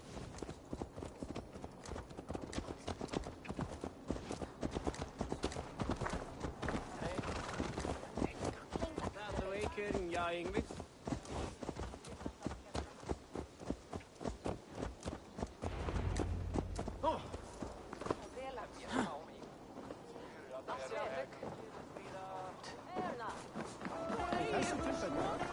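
Horse hoofbeats from the video game Assassin's Creed Valhalla make a steady, rapid clip-clop of riding that runs throughout, with spoken dialogue over it.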